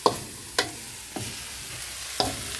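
Food frying in oil in a pot is stirred, with a steady close sizzle broken by a few scraping stirs at roughly half-second intervals and no talk.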